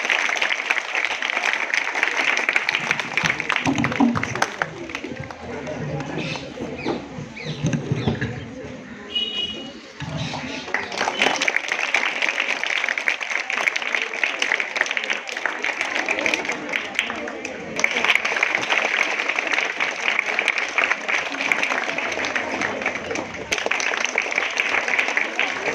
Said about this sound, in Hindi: एक बार ज़ोरदार तालियां हो जाए उनके लिए।